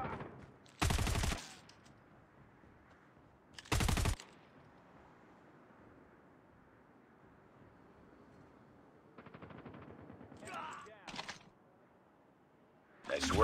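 Video game gunfire in short sharp bursts, two loud volleys early on and more rapid shots near the end, separated by quiet background sound with some faint talking.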